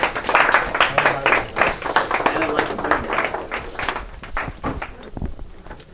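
A lecture audience gives a laser demonstration on the index of refraction a round of applause, a dense patter of claps that thins out over several seconds alongside a speaking voice.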